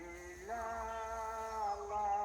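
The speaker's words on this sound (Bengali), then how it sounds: "আপনারা যে আজানটি শুনছেন, এটা কিন্তু ইন্ডিয়াতে হচ্ছে" A faint, distant, drawn-out azan from across the India border in Kurigram, one voice holding long wavering tones over low background hum.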